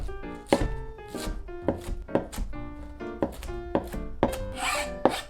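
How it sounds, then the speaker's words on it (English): A knife chops cabbage into 1 cm squares on a wooden cutting board, with a steady series of about ten crisp, near thunks and short rasping slices, loud and close, with no voices. "cut the remaining cabbage into 1 cm squares as well"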